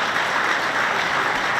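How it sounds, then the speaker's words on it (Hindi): An audience at a yoga session claps together in steady, dense applause, loud and continuous throughout without any speech over it. "बजाओ ताली, एसी ना मिला।"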